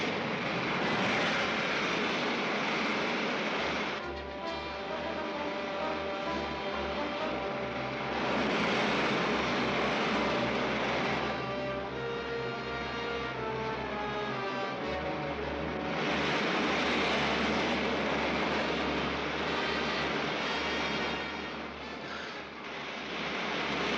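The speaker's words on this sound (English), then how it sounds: "Firing main jets." Rocket main jets firing in flight, a loud continuous roaring hiss that swells and eases in long waves throughout, with no voices over it.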